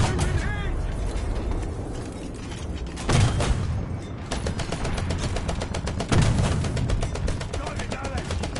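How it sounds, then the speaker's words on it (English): Rapid machine gun fire in the War Thunder combat game rattles on steadily for several seconds, with heavier booming bursts at intervals and a voice talking over it. "Oh, it's just a machine gunner."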